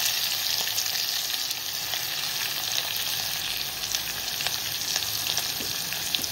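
Asafoetida, curry leaves, ginger, garlic and green chilli tempering in hot oil, giving a steady, close, dense sizzle and crackle with occasional pops and no talking.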